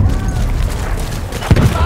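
Artillery barrage in the Battlefield 1 multiplayer Rush mode, a steady low rumble of battle noise topped by one heavy booming impact near the end, loud and close, with voices calling out in the game.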